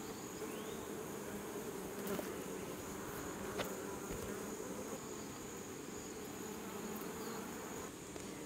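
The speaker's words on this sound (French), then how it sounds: "j'ai attrapé quelques abeilles" Captured bees, held for bee sting therapy, buzz continuously and up close in a dense, steady drone, with occasional brief clicks and no talking.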